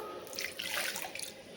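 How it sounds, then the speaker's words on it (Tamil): Water splashes and trickles steadily into a cooking pan of tomato gravy, a close, continuous pouring sound with bright, hissy spatter. "கொஞ்சமாக தண்ணி சேர்த்து ஊற்றிக்கணும்."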